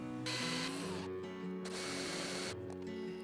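A power driver runs screws through the hoop of a whisky barrel being converted into an herb planter, with several bursts of whirring separated by short pauses, loud and close.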